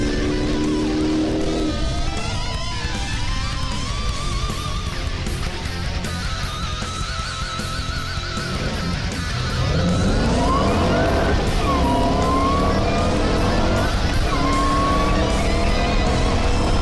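A Shelby Super Snake and a Challenger make a 0 to 100 to 0 run, their loud engines roaring and climbing through the gears, then falling away as the cars brake.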